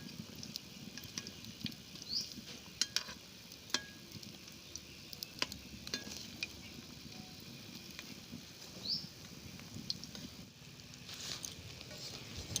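Potato, egg and vermicelli snacks frying in oil in a pan as they are turned, a quiet continuous sizzle dotted with faint pops and occasional light utensil taps.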